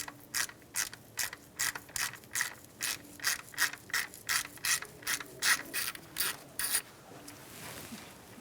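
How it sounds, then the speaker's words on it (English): A ratchet with an 8mm socket turning a camshaft position sensor bolt on a 2004-2009 Mazda 3 2.3L four-cylinder, a rapid run of about twenty close, crisp clicks that stop near the end. "Now we're going to need an 8mm socket for that bolt."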